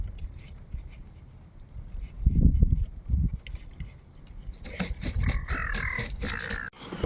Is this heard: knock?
no